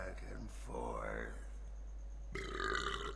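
A loud, drawn-out belch voiced for a rocking horse pony in the video game Dragon Age: Origins Awakening, rising through the middle of the moment with other game sounds around it.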